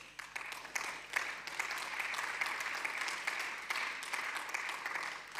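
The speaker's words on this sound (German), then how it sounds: "Applaus" Applause in a parliamentary chamber during a Berlin state assembly session, a moderate, fairly distant patter of many hands with sharper individual claps standing out, sustained throughout.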